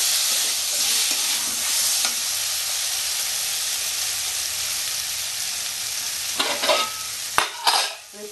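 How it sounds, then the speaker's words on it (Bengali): Potato and pointed gourd sautéing together in a pan for a Bengali fish curry, a loud continuous sizzle with a few spatula scrapes and knocks near the end, close up and without voices. "দুটো একসাথে কষতে থাকবো।"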